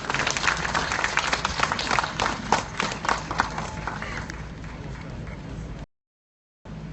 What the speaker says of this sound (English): Round of applause for Mr. Ng Teck Siong, 75-year-old, still helping a 24-year-old Singaporean.